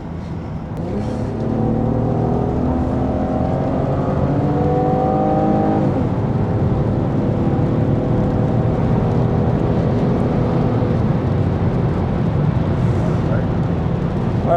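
A Chevrolet Camaro V6 with an automatic gearbox accelerates hard along a road, its engine droning loud and steady from inside the cabin as the pitch climbs through gear changes.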